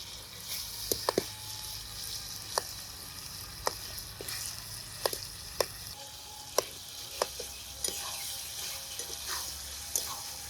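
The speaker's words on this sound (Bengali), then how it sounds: "সবজি নেড়ে চেড়ে ভাজা ভাজা করে নিলাম" Potato and cauliflower curry sizzles steadily in a pan while a metal spatula breaks up and stirs the vegetables, giving sharp scraping clicks at irregular intervals over a continuous frying hiss.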